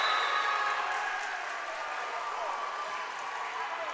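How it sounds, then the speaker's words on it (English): A crowd in a school gym at a high school volleyball match cheers and claps, a dense wash of applause that is loudest at the start and eases slightly, with a commentator's voice over it. "Now the crowd gets into it. Now the energy picks up in the gym."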